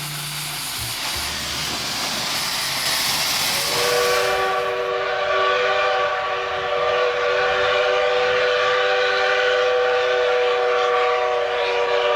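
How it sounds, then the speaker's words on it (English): A loud Skunk Train tourist locomotive rumbles close by in California's Redwood Empire, and a long, steady whistle blast cuts in partway through and holds to the end. "The world-famous skunk trains, once powered by gasoline locomotives"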